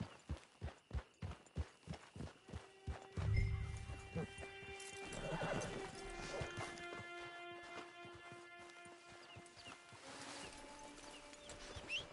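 Rapid, rhythmic hoofbeats of a galloping horse in Red Dead Redemption 2 Online, then a neigh as the running stops, leaving ringing tones and quieter ambience.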